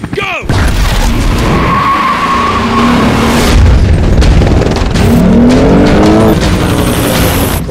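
A Lexus IS 350 F Sport launching hard from a race start, its engine roaring up through the revs with tire squeal, loud and close, while a voice speaks over it.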